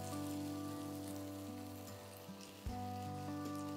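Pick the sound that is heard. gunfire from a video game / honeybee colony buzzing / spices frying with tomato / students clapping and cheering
spices frying with tomato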